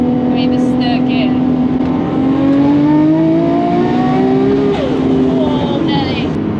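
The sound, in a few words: sports car accelerating in third gear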